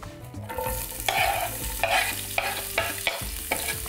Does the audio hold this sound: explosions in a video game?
no